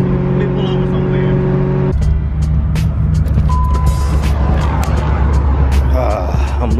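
A Ford Mustang Cobra's engine runs on a road in Louisiana, a steady low rumble that shifts after a couple of seconds into a rougher driving drone with road noise and occasional clicks, close and loud, with no talk.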